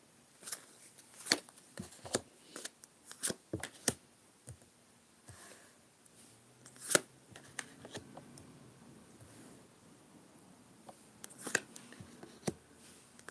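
Cards are shuffled by hand, producing scattered crisp taps and flicks in irregular bursts, soft and close with quiet stretches between.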